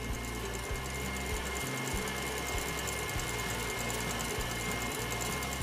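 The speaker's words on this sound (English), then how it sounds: "I'm going to turn the mixer back on and continue to beat the egg whites, very gradually adding the reserved sugar from earlier." Electric stand mixer beating egg whites while sugar is gradually added for an angel food cake, a steady continuous motor whir with a rhythmic low thumping, close and fairly loud throughout with no talking.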